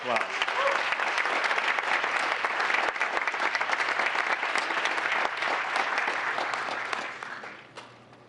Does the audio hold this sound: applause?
yes